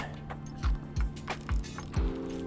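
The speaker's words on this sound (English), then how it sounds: "to remove the line off the front master, I'm going to take a 12mm socket," Ratchet wrench with a 12mm socket working on the front master cylinder brake line of a Suzuki GSX-R motorcycle: four close, distinct ratcheting clicks at a steady rhythm, heard alone.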